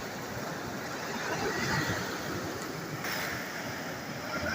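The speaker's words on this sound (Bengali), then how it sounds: "গঙ্গা নদীতে বান এসছে।" Tidal bore surging up the Ganges river at Hirapur, a steady rushing wash of water with a soft wind-like hiss, moderately distant and unbroken, no talk.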